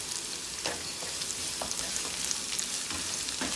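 Onion frying in a pan for sautéed sardines, a steady close sizzle and crackle with occasional small pops, alone without voices.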